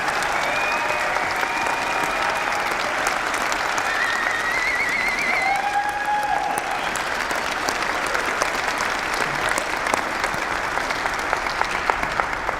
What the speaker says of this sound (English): Let's give everybody one more round of applause for their graduation.